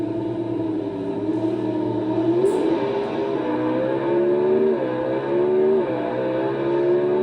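Bob Glidden's 1985 Ford Thunderbird pro stock drag car roars steadily at high revs, a loud sustained engine drone with shifting pitch through the run and no voices.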